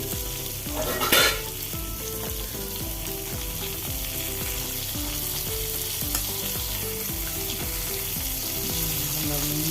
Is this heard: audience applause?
no